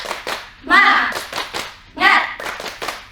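A group of participants at a seminar doing a rhythmic spirit clap, two sharp bursts of clapping in time with short chanted voices between them, close and loud.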